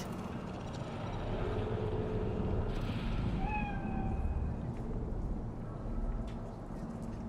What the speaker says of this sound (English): Do you see it? The cat.